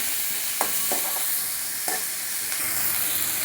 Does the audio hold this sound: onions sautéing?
yes